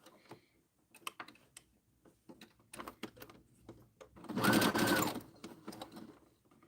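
A sewing machine whirs in a steady burst of stitching while sewing a zipper pouch, preceded by scattered clicks and handling taps; no one speaks.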